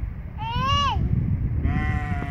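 A goat bleats twice nearby: first a wavering cry, then after a pause a second, flatter bleat, over low background rumble.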